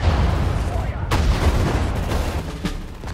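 Booming artillery fire bursts from the strategy game Sudden Strike 4 over a dense rumbling battle bed, with a couple of sharp blasts standing out and German voices faintly underneath.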